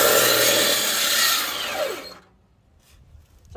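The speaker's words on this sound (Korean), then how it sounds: "요것의 단점은 톱날이 깊지 않아 가지고요, 여기 돌려가면서 잘라야 된다는 단점이 있지만 저 전기톱보다 훨씬 빠릅니다" A power cutter slices through firewood logs, a loud bright whining buzz up close that drops away abruptly partway through, leaving near-quiet with faint handling noise.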